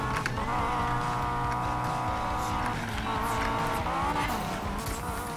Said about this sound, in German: Du bist ein hochdrehender Motor.